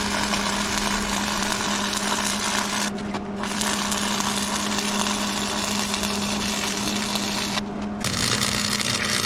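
Steel is welded for a custom front bumper on a Ford Econoline van, producing a continuous close crackling hiss with two brief breaks in the arc.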